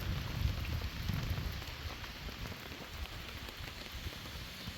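Steady rain falling at a rainy campsite, a soft continuous patter on surfaces that is slightly heavier at first and then settles into an even hiss with no talking.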